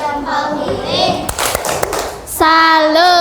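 A primary school class performs the tepuk salut chant: children's voices sing together, then a quick burst of rhythmic hand claps and slaps, and the sung chanting returns, loud and close.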